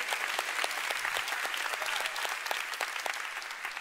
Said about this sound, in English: Come on, you want to clap? Give the Lord a big hand.